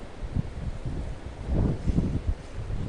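Wind gusts across an outdoor spot during ultralight micro jig-rig fishing for zander, a steady broadband rush with louder swells and low buffeting on the microphone, with no other clear sounds.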